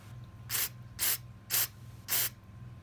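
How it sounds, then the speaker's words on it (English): Carburetor cleaner sprays into a Yamaha V-Star 1100 carburetor during a rebuild: four short, evenly spaced hissing bursts, close and fairly loud, over a low steady hum. "of the carburetor cleaner to push the ball in and then spray into this, and it will spray down into the bottom."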